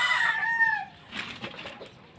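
Peruvian hatch gray gamefowl hens and roosters on a breeding farm, a crow trailing off at the start, then scattered soft clucks and calls nearby.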